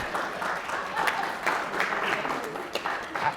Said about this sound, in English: Can we get one more round of applause for Debbie?